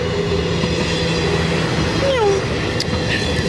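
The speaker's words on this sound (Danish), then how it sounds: "Har du set toget der?" A train passing near a river canoe trip on a hot day, a steady broadband rumble throughout with a brief rising wheel squeal midway, heard from some distance outdoors.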